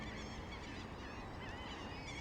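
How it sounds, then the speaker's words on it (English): Gulls calling near a bike path on a cold day, a continuous overlapping chorus of squawking and honking cries that fills the whole stretch, fairly loud against steady outdoor noise. "The birds, the gulls, the seagulls, they're out at it again."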